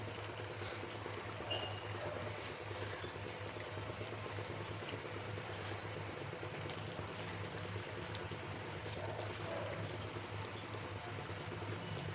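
Water pours steadily into semolina dough, a constant trickling flow with a low hum beneath it, no voices.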